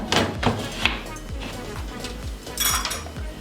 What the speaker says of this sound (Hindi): ढक्कन बंद कर देंगे,